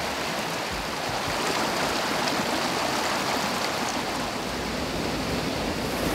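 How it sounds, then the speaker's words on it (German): The Holzbach stream flows through a deep basalt gorge in the Westerwald, a steady, full rushing and burbling of water close by, continuous and unbroken with no voices. "mitten im Bach mal dieses Geräusch wahrnehmen"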